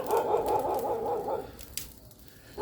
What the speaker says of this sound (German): Das sind die Hunde von den Nachbarn.